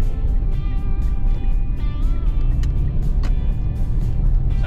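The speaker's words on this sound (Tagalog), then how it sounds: "puro truck po yung dumadaan." Vehicles, mostly trucks, pass continuously on a bypass highway between Alaminos and San Pablo, producing a steady loud road rumble and tire roar with no speech.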